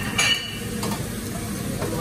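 Tuna skin frying in hot oil, a steady bubbling sizzle close by, with a few clinks of a utensil against the pan and a voice speaking faintly.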